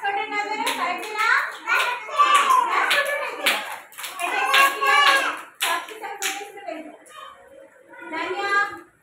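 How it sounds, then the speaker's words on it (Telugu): A group of young kids at an Anganwadi preschool clap their hands in sharp, repeated rhythmic bursts, chanting and talking loudly in between. "క్లాప్స్ కొట్టండి అందరూ"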